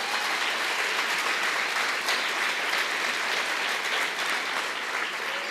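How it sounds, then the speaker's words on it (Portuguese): Church congregation applauding steadily, a loud, continuous wash of many hands clapping that holds even throughout. "eu queria tanto que você aplaudisse a Deus por isso"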